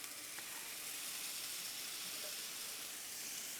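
Steaks sizzle in oil on a Blackstone griddle, a steady, even hiss that runs unbroken throughout, fairly quiet and alone without voices.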